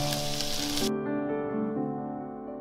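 Dumplings pan-fried with beaten egg poured over them sizzle loudly and steadily for under a second, then the frying noise cuts off abruptly, leaving sustained steady tones.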